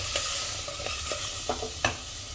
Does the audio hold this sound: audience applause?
no